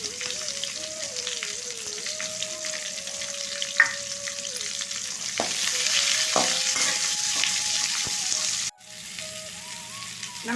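Sliced onions and curry leaves with fennel seeds frying and being stirred in a pan for hariyali chicken, a continuous sizzle with scattered scraping strokes, a sustained hum running underneath.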